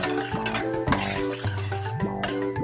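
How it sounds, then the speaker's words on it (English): Kale, artichokes and garlic stirred in a pot, with spoon scrapes and clinks against the metal repeating steadily and close by. "And we also added about a teaspoonful of our garlic. Just kind of stir it around."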